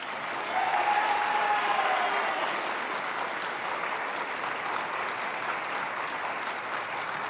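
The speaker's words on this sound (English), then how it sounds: "give a round of applause to our 2026 signing day class" An audience in an arena applauds at a high school signing day, steady sustained clapping from a large crowd heard from a distance and without pause.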